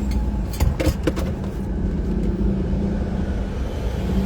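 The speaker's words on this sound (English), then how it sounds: "Again, the heavy traffic here." Heavy traffic rumbles through downtown Chicago, a dense low roar of cars and larger vehicles with a few sharp clanks early on, steady and fairly close with no voices.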